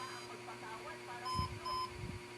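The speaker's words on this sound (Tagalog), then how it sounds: "So 3 beep." An HP ProDesk 600 G4 small-form-factor desktop sounds a short electronic error beep code, two clear tones close together over steady background hum, with brief talking nearby.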